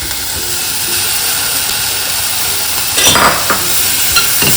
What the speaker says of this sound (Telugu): కొద్దిగా హై ఫ్లేమ్ పెట్టేసి కలుపుతున్నాను